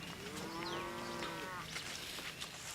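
A dairy cow on a farm lets out a single drawn-out moo, tonal and moderately close, over faint background ambience, with no talking.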